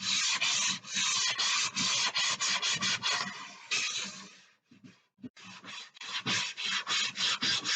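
Sandpaper folded to a point rubs by hand along the edges and corners of a wooden dresser, loud close rasping strokes in a quick rhythm with a brief pause partway through before the scrubbing resumes.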